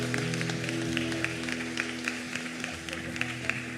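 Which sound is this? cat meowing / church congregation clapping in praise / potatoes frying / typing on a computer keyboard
church congregation clapping in praise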